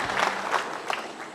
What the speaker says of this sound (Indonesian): sekali tepuk tangan dong